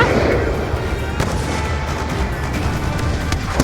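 Gunfire from Call of Duty Black Ops 2, including sniper rifle shots, booms steadily through a dense, loud battle din with sharp reports standing out and no talk over it.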